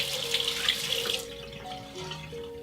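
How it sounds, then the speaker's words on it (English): Tap water runs briefly as a wand is rinsed underneath, a close hissing splash that fades into softer trickling and dripping, with faint tones lingering behind. "I take it out, I rinse it, I give it a quick rinse."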